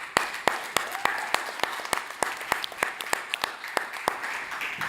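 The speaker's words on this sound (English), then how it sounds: "Round of applause." Applause from the crowd at a brewing industry pitch event as a brewery founder walks to the stage, with a few loud sharp nearby claps punching above a steady spread of clapping.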